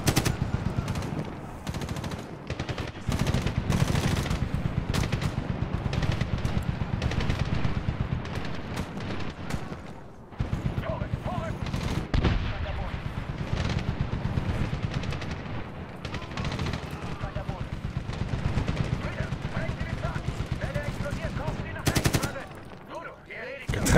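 Machine gun fire in the Medal of Honor video game rattles in long, dense bursts, broken by a few short pauses, loud and close, with voices talking over the shooting.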